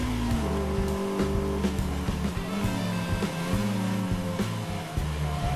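Michelin Clio Cup race cars at Brands Hatch roar away from the start, engines revving hard and shifting through gears in a dense, loud, continuous pack from close by, with a touch of tire squeal.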